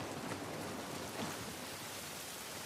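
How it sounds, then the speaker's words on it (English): Steady rain hisses outdoors in The Last of Us Part I, a dense, even wash of broadband noise with no distinct drops, moderately quiet and continuous throughout. "Oh, that rain. It's raining."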